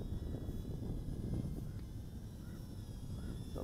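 A micro FPV quadcopter flies outdoors with a steady, faint buzzing whine of small motors over light wind noise, continuous throughout without speech.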